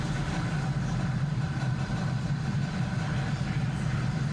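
Falcon 9 rocket engines roaring during the Axiom 1 crewed launch with Dragon, a loud, steady, distant low rumble sustained throughout as the first stage throttles down before max dynamic pressure.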